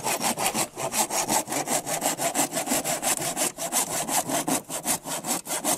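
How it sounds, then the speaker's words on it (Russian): Wood is hand-sawn outdoors in a quick, steady back-and-forth rhythm of rasping strokes, loud and close with no talking. "Очень полюбил пилить."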